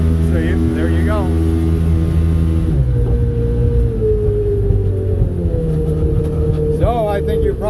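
A boat's 120 horsepower sport jet engine runs loudly and close, with a steady low drone that shifts pitch partway through and rises in brief revs. Someone talks over the engine.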